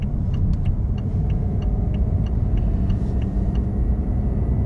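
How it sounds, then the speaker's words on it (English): Cabin of a 2015 BMW i8 accelerating in Eco Pro mode: a steady low road and drivetrain rumble throughout, with a faint regular ticking like a turn signal over it. "just give you an idea how the acceleration is in Eco Pro."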